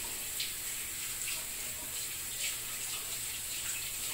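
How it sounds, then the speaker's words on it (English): Steady running tap water rinses sticky ratatouille residue off hands at a kitchen sink, a constant close hiss with faint splashing and no talk. "so you just rinse it off of your hands"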